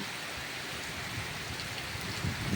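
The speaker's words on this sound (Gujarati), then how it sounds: "ફૂલ પવન સાથે વરસાદ છે" Heavy rain pours steadily with a constant roaring hiss beside a highway, slightly gusty in places as if driven by strong wind; no one speaks.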